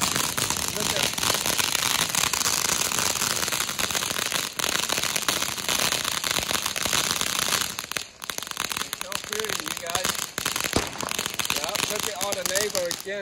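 Fireworks and firecrackers set off for a Fourth of July celebration, a dense continuous run of crackling bursts and pops lasting throughout, with people talking underneath.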